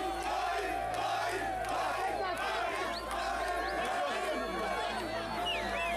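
Dense, loud crowd of people chanting and shouting together outdoors at an opening ceremony, a continuous massed roar of voices with no pauses.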